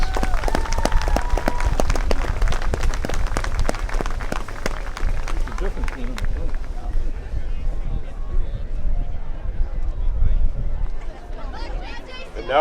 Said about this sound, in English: Let's have a round of applause for our Hall of Fame inductees.